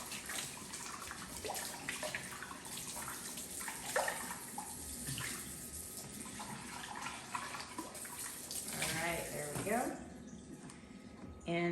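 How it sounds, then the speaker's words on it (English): Tap water running into a sink to rinse out a container, a steady splashing stream with brief gurgles and clatter, close and moderate, with a person talking over it. "Don't wanna make a mess, so we're gonna go ahead and rinse this out."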